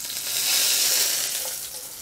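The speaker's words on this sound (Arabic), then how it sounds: "بنرجع منطشة طشة السمنة. واسمع لي هالصوت" Hot Arabic ghee poured over Syrian fatteh with pine nuts, giving a loud, steady crackling sizzle that swells and then fades slightly over two seconds, heard alone without talk.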